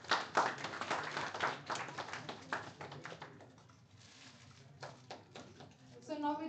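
Scattered audience clapping at a national IT industry event, uneven and fairly close, building to a dense patch before thinning into a few sparse claps and a quieter lull, then picking up again.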